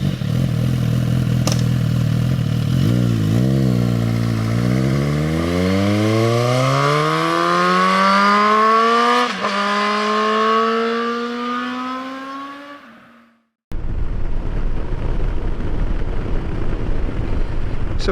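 A 2024 Suzuki GSX S1000 GX motorcycle engine revs loud and close, climbing steadily in pitch as it pulls, then winds down and cuts out before steady wind and road rush takes over.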